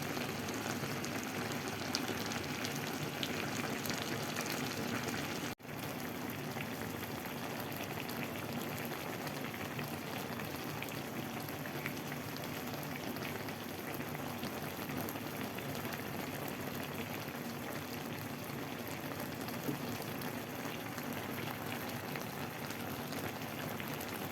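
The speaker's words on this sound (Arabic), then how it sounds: "البقبقة بتاعت الشوربة والرز المحشي كده بيستوي فيها" Broth with rice-stuffed vegetables (mahshi) simmering in a pot: a steady, dense bubbling and popping that carries on evenly and alone for the whole stretch.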